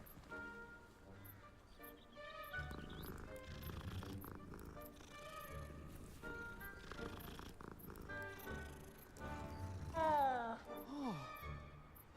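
A cat in Hogwarts Legacy purrs with a soft, low rumble beneath quiet game music and chatter, along with chirpy animal calls; the purr stays faint and steady throughout.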